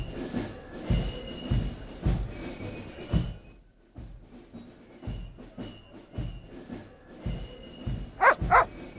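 A dog barks and yips repeatedly in the video game Broken Sword 2.5: Return of the Templars, loud close bursts over a steady game background, ending in sharper high-pitched yelps.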